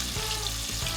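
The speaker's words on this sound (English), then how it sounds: "We're gonna be frying these for 8 to 10 minutes" Steady crackling sizzle of chicken wings deep frying in hot oil, close and continuous, with a few soft bubbling surges.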